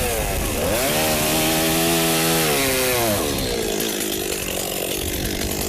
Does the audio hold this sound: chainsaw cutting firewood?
yes